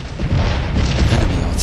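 Enemy artillery air bursts in the Civil War strategy game Scourge of War: Chancellorsville sound as a heavy, rumbling boom that stays loud and dense for its short length.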